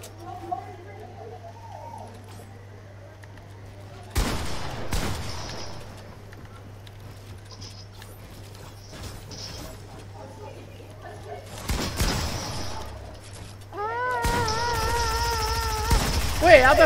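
Gunfire aimed at the player in a shooting video game, several sharp bursts of shots breaking out over a low steady hum, near and loud, with a person talking in between.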